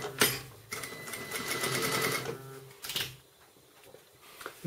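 Sewing machine stitching along the very edge of softshell fabric with a long stitch, a steady mechanical whir running for about two seconds, then a short second burst, close and fairly quiet.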